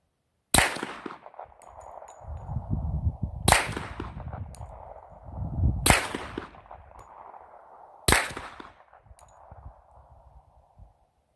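Four sharp, loud shots from a suppressed Rock Island Armory 1911 pistol in 10mm firing supersonic ammunition at an outdoor range, spaced a few seconds apart, each followed by a ringing tail and some low rumbling noise.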